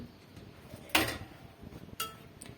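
Plates and bowls being washed and stacked in a home kitchen, two sharp close clinks about a second apart over a quiet background.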